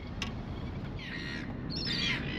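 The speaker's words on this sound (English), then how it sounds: "even the seagulls are telling me to move on" Seagulls squawk by a harbour, two faint, distant harsh calls rising over a low steady wash of outdoor noise.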